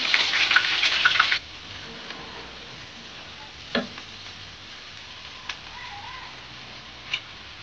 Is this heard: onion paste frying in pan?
yes